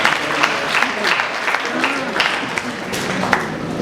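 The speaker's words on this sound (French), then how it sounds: "je vous demande de les applaudir" An audience claps for former students at a World Book and Copyright Day literary event, a close, busy patter of hands with some voices and murmuring mixed in throughout the short burst.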